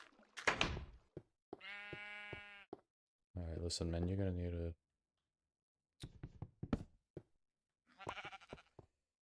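Sheep in the video game Reminiscence give several loud, wavering bleats, one long and drawn-out, separated by silences, with someone talking between them.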